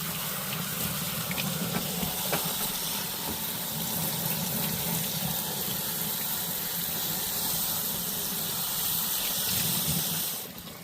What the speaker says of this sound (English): Give the bowl a quick rinse.